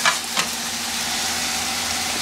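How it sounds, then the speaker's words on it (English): Pre-cooked ham pieces browning in a frying pan for a ham, eggs and home fries breakfast, giving a constant close sizzle with a faint crackle near the start and no talking. "The ham's already pre-cooked, just kind of browning it up a little bit."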